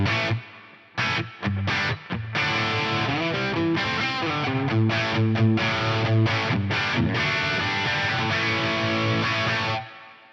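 Electric guitar through an amp with convolution reverb on a Poly Digit, struck chords and single notes playing on with a lush, lingering wash, briefly gapped early on, then sustaining steadily before stopping near the end.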